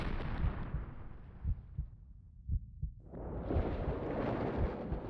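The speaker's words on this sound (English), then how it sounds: "Along with the ear-splitting sound of an explosion, I was slammed with an even greater impact than before." A loud, booming explosion in the game Chaos;Head Noah: heavy rumbling blasts with thudding impacts, a brief dip into near-silence, then a second wide roaring burst that keeps rolling on.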